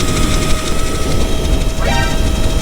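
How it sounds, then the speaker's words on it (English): A loose bolt rattles on an electric cafe racer motorcycle while riding, a continuous close mechanical clatter and whir under road and wind noise, with a rising whine near the end. "That rattling though is sketching me out."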